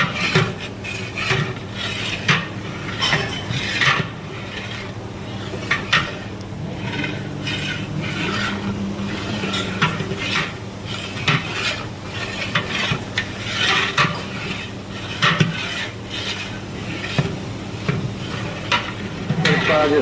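Tempering sizzles in large langar pots at a gurdwara kitchen while being stirred, producing continuous frying crackle with rhythmic scraping and rasping strokes of utensils against metal, close and busy.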